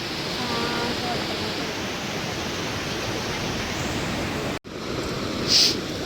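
Sea waves at Shrivardhan beach around eleven at night, a continuous broad roar of surf washing in close by, steady and loud, with a brief cut near the end.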